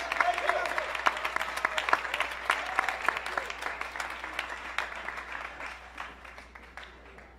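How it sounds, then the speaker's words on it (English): An audience at a live arts event on the homeless crisis breaks into dense applause that starts loud and slowly tapers off over several seconds. "Another big round of applause for the Urban Voices Project."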